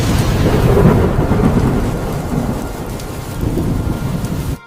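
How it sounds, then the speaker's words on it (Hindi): Heavy rain pours steadily while low rumbling thunder rolls through, loudest early on and easing slightly toward the end. "जब रात हुई तो अंधेरे आसमान में लगातार बिजली चमकने लगी और उसी के साथ मूसलाधार बारिश तेजी से शुरू हो गई।"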